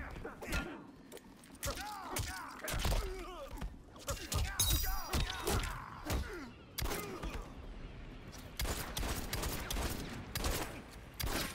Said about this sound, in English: Did I fire six shots or five?